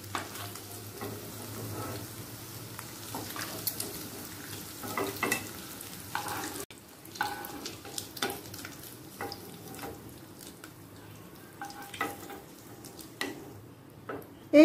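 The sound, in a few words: paneer frying in oil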